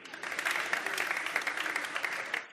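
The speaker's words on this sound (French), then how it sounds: "Acclamons la parole de Dieu." Congregation applauding in a church service, steady close clapping from many hands that swells and fades over a couple of seconds.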